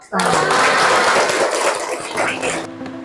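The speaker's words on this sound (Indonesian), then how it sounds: "kita rayakan kemenangan kita atau keberhasilan kita dengan tepuk" Classroom clapping to celebrate a success in a chemistry lesson, a dense burst of many hands that starts abruptly, fills the room loudly and thins slightly toward the end, with faint voices underneath.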